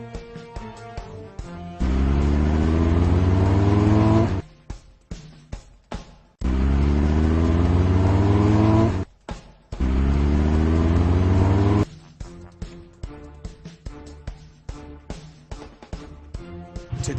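Cartoon fire trucks in a Blaze monster truck firefighting game rev their engines in long loud rising bursts, separated by short breaks of clicking and rhythmic game effects.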